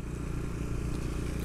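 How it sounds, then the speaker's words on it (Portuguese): Engine of a Bajaj Dominar motorcycle, a faint, steady low rumble that holds evenly through the short stretch with no talking. "Mas primeira percepção, o ronco. Gostei."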